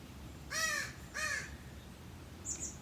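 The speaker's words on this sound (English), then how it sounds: "And some crows have now joined me as well." Outdoors, a crow gives two harsh caws about half a second apart, fairly close and clear, followed by a fainter distant call, with no talking.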